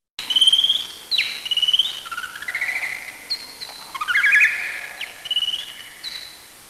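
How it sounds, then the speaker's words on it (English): A male Nathusius's pipistrelle bat's song, slowed tenfold, plays alone as a run of warbling, whistled trills and sweeping chirps in quick phrases, fairly loud and continuous for several seconds with no voices. "this is what it sounds like slowed down by a factor of 10"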